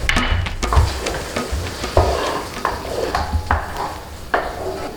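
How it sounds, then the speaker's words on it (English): A spatula scrapes and clacks steadily against a pan of sizzling food, with repeated close strokes and an even frying hiss underneath, no voices present. "And give it a stir."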